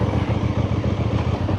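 A 2025 QJmotor RACE 550S sportbike rolling at idle in first gear, giving a steady, even engine rumble with a low throbbing pulse and no voices.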